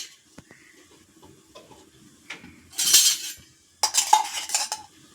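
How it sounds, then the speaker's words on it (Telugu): A pan is set on a stove before it is lit, with light metallic clinks and taps followed by two louder bursts of clattering cookware and rustling, close by. "ప్యాన్ పెట్టి స్టవ్ వెలిగించుకోవాలి"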